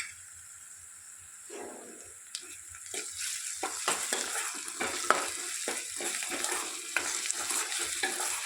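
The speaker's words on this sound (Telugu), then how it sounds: "ఇలా కలుపుకొని ఒక 1 మినిట్ ఉంచుకుందామండి ఫ్లేమ్లో" Broad beans frying with green chillies in a pan, stirred with a spoon: a faint hiss at first, then scraping strokes over a steady sizzle that grows louder and keeps going, close up with no talk.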